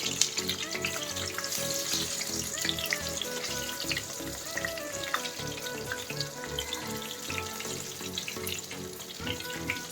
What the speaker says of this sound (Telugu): ఇవన్నీ ఎర్రగా అయ్యే వరకు వేయించుకొని తీసేసుకుందాం